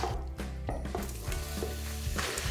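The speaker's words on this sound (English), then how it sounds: "And we're going to allow that to heat up and then brown our meat." Meat browning in hot olive oil in a Philips All-in-One cooker gives a steady, close sizzle and crackle that runs throughout, with a few faint utensil clinks and no talk.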